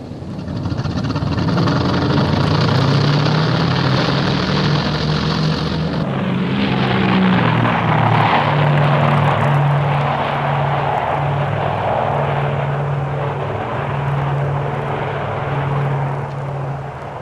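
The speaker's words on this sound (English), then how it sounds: "It takes little more than a minute for the well-trained flight deck team to position and launch the tracker." The piston engines of a Grumman Tracker anti-submarine plane roar on the flight deck of the carrier HMCS Bonaventure during launch. A loud, sustained propeller drone shifts pitch partway through and keeps a strong steady hum to the end.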